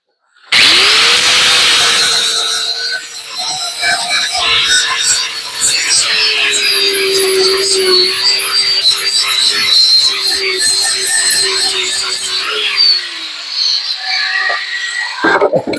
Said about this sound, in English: Sander. Plug in. Plug that baby in.